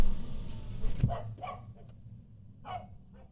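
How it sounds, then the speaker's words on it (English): A dog barks a few times at moderate distance, separate short woofs spaced across the moment over a low steady background rumble. "Who was this dog barking at?"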